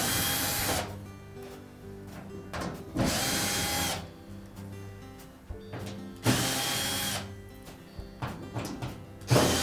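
Cordless power drill driving out the six Phillips or square-head screws holding the rear access panel on a Frigidaire washer, loud whirring bursts that start and stop several times with brief pauses between.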